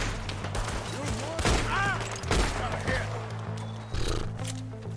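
Gunfire in Red Dead Redemption 2 crackles in several short bursts against horse sounds and a steady low game drone, with a voice speaking over the action.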